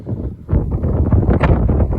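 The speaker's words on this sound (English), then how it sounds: "Very, very windy out here." Strong gusty desert wind batters the microphone in rough, rumbling bursts, loud and continuous with no voices.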